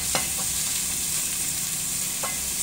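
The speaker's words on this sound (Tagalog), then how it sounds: "Natin mag-golden brown ng kunti ang ating sibuyas." Onions fry in a pan with a steady loud sizzle while being stirred toward golden brown, and a couple of scraping utensil strokes stand out.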